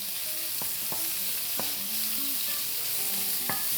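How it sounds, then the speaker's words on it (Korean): Meat and cheongyang chili stir-frying in a wok give a steady, close sizzle, broken by a few sharp clacks of a utensil against the metal and faint clinks, with no talking. "그리고 여기 고기하고 청양고추, 고기 꼭 먼저 볶아주셔야 돼요."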